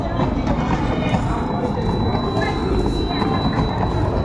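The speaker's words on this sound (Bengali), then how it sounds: "এই আমাদের হাওড়া অমৃতসর মেল।" The Howrah Amritsar Mail train at Amritsar station rumbles steadily with a loud, continuous low roar and wheel noise, with people talking underneath throughout.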